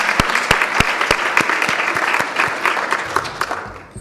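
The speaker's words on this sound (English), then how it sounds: "Let's give her a round of applause." An audience claps in sustained applause at a talk about women, art and ownership in the hotel industry, sharp individual claps standing out over a dense steady patter that fades slightly at the end.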